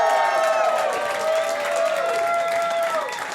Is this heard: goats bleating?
no